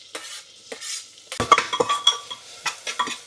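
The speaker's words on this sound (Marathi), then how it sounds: "सो अनियन टाकलं आता मी स्लाइस केलेलं." Sliced onions sizzle in a hot pan after whole spices and cumin go into the oil, with repeated scraping stirs of a utensil against the pan close by, alone and without talk.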